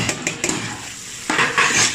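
Ginger garlic paste fries in a pot for Chennai-style biryani, with a spoon scraping and clattering against the metal in short bursts over a faint sizzle.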